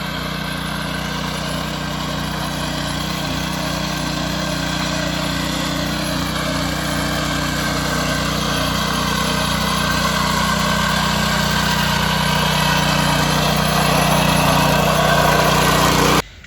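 A 7hp power weeder's engine drones continuously at close range, a loud, unbroken low hum with a steady buzzing texture that holds for the whole stretch before cutting off at the end.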